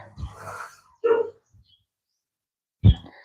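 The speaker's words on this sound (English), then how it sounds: "There's dogs everywhere around here." Dogs bark outdoors in a residential neighbourhood, with one dog locked up: a few short barks at a moderate distance, separated by pauses, with faint background sound.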